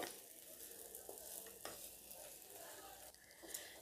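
Small soup-garnish pieces fry in oil until crisp, making a faint, steady sizzle with a few sharp stirring clicks and scrapes, and no voices.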